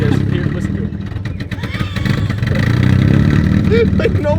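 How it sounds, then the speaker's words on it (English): A cammed Volvo 240 car engine idles with a rough, lumpy exhaust note, loping unevenly and loud up close, with a voice speaking faintly underneath. "You gotta hear the exhaust."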